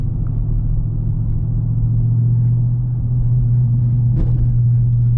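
Dodge Charger 392 Scat Pack V8 engine holds a loud, steady low rumble close by, with a slight rise in revs near the end and no talking.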